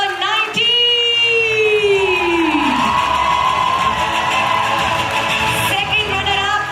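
A pageant audience of Punjabi contestants' supporters erupts in loud, sustained cheering and whooping, with a shrill whistle-like shout rising near the start and the crowd noise holding strong to the end.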